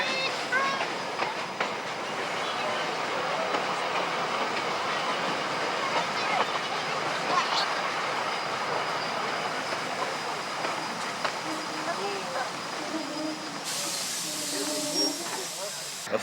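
A steam train rumbles past steadily on New Zealand's Otago Central line with a constant hiss and rolling mechanical noise, loud and close throughout.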